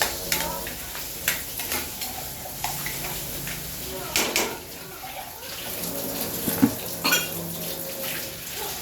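Potatoes and carrots frying in a pan, soft sizzling under intermittent stirring clatter and scraping, close by, with a person talking over it.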